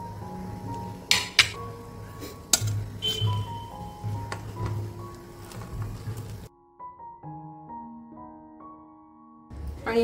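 Vegetables go into a simmering pot of homemade green Thai curry and are stirred, with scattered clinks and taps of a utensil against the pot and soft wet squishes. A brief quieter stretch follows near the end.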